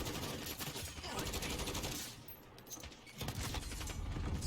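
Rapid shotgun fire with incendiary rounds on the Shipment map in Call of Duty, dense overlapping blasts with a brief lull in the middle before the loud firing resumes.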